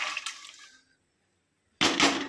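Water pours into a cooking pot holding washed peas for a lunchbox recipe in two short splashing bursts separated by a silent gap, fairly near and moderately loud.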